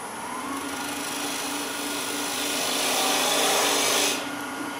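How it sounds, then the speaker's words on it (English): A bowl gouge cuts a tenon on spinning wood on a lathe, a steady scraping hiss over the motor's hum that swells near the end, then eases off as the tool lifts away. "I'll probably do like one more cut with the bowl gouge"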